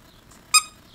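A plush coin-shaped dog toy with a dollar symbol gives one short, bright squeak, alone and close.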